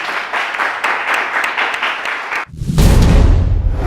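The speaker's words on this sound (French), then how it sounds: "Donc on applaudit s'il vous plaît." A studio audience on a French cooking competition show applauds steadily, a dense even clatter of many hands, which cuts off briefly and then swells into a louder, fuller burst of clapping and cheering.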